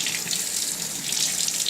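Water rushes steadily through a Hoover Power Scrub Elite Pet carpet cleaner being flushed out, a continuous bright splashing flow close to the microphone with no talk.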